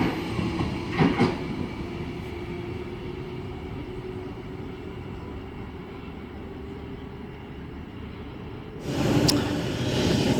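Sydney S-set electric train at Strathfield station: a steady, close rumble of rolling wheels and motors runs throughout, with a burst of brighter clatter near the start and another at the end, and no voices.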